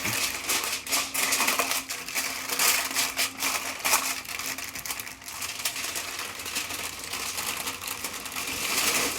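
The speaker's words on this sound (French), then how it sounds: "Et ce qu'on va faire, on va l'emballer." Aluminum foil crinkles and crumples continuously as pulled pork is wrapped up tightly, a close, busy rustling with sharp crackles throughout and no talk.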